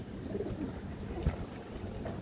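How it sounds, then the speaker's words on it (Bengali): A lively silver female pigeon coos softly up close, a few low throaty coos over quiet background noise. "খুবই চঞ্চল কবুতরটা দর্শক"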